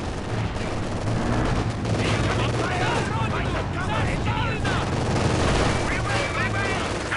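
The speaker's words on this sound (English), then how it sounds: "Our headquarters is taking enemy fire." Dense battle din from Company of Heroes 2 on the Soviet side: steady gunfire and artillery rumble without pause, with game voices talking over the top.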